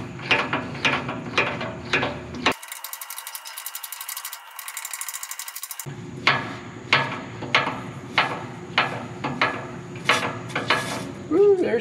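Fuel pump on a Cat D7F ex-military dozer being hand-primed, giving a steady series of rhythmic mechanical clunks and ratcheting strokes, close and fairly loud, with a brief break partway through.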